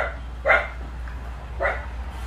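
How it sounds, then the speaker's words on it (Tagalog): Dogs bark at an unfamiliar visitor in front of a house with flowers and plants, giving two short, fairly loud barks about a second apart over a steady low background hum. "Hindi ako kilala ng mga aso na, kaya ako'y tinatawalan."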